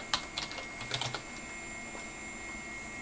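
Keys tapped on a computer keyboard while installing IRIX 6.5.22 on an SGI O2, a short cluster of close clicks over a steady machine hum, then quiet hum alone.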